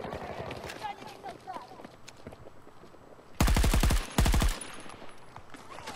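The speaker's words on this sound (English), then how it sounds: "Nope, still indeterminate clomping. Clomp, clomp, clomp, clomp, clomp." Heavy, clomping footsteps from a soldier in a Battlefield 2042 match, thudding in a steady rhythm before two loud bursts of rapid automatic gunfire cut in close by.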